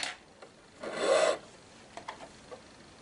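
Scissors give a brief rasping snip as thread is cut on a Pfaff hobbylock overlock machine, followed by a few soft scratchy touches, close and quiet.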